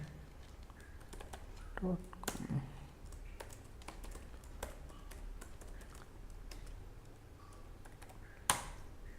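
Light tapping on a computer keyboard while writing an email, soft irregular clicks under a faint background hum, with a louder clack near the end.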